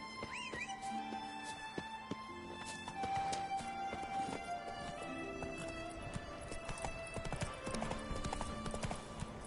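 Hooves of Geralt's horse Roach clip-clop in The Witcher 3: Wild Hunt, a steady quick rhythm of hoofbeats running the whole time, with a brief whinny near the start and faint game music and ambience underneath.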